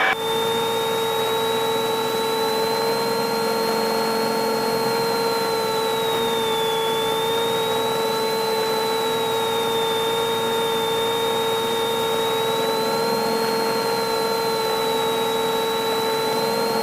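Light bush aircraft engine on approach to landing in Lesotho, a loud steady drone with a sustained whine that wavers slightly in pitch, continuous throughout with no talking.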